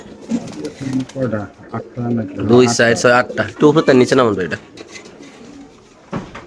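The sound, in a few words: female pigeons cooing in a cage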